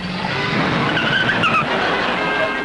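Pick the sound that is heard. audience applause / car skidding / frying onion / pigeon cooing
car skidding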